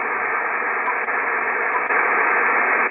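An Icom IC-7300 ham radio transceiver gives off steady, even receiver hiss, a dull band-limited static that holds at the same level with no voices or signals over it.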